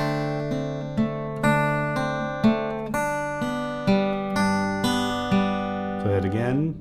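An acoustic guitar in open G tuning plays a fingerpicked blues passage, moving from the five chord back to the one chord. Plucked notes ring steadily over a bass line and end on a strummed chord.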